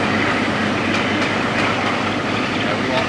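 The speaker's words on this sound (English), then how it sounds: "It's a train!" A train rumbles past near Goathland in Yorkshire, a loud, close, continuous rush of wheels and track noise with faint rhythmic clatter.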